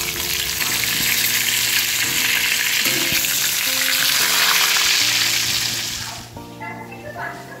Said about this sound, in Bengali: এই যে পুরো ভাজা চলছে সবটাই